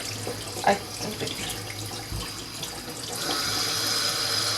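Tap water running into a sink while make-up brushes are rinsed under cool to warm water, a steady close splashing hiss with a few clinks early on that grows fuller and louder in the last second or so.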